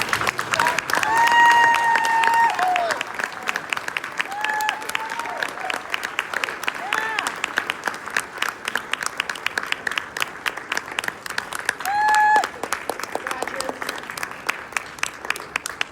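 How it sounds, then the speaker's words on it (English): A graduation crowd applauds and cheers for the graduates, a broad wash of clapping with scattered whistles and voices rising above it, holding fairly steady before thinning out toward the end. "So let's give a big applause to our graduates"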